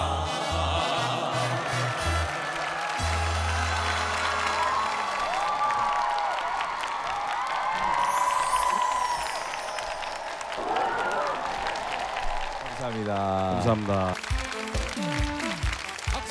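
An audience bursts into applause and cheering after a song at an impromptu outdoor concert, the clapping building and filling the scene while someone speaks over it.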